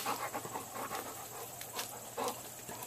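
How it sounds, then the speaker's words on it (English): A female dog hiccups in a string of short, sharp bursts mixed with panting breaths, close by and fairly quiet, with no talking. "she's got the hiccups"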